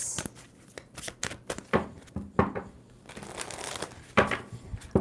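Tarot cards are shuffled by hand up close in sharp, irregular riffles and snaps, with crisp papery flicks and crinkles bunching and pausing over several seconds, and no talk.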